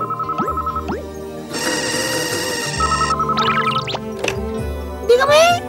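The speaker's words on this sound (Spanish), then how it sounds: "¡El teléfono! ¡Vamos a contestar!" A telephone rings in an animated household scene, its electronic ringtone repeating in short pulsed bursts over background music and voices.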